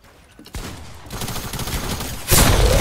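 Submachine gun fire in a video game, a rapid burst that starts abruptly after a brief quiet moment, holds steady, then surges louder near the end.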